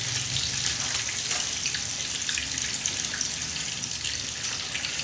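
Food sautéing in a pan gives a steady bright crackling sizzle with dense hissing pops that continues evenly and close throughout.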